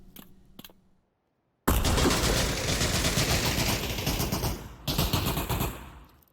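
Rapid automatic gunfire in the VR shooter PavlovVR during a competitive match, loud dense bursts after a brief quiet gap, with one short pause before firing resumes.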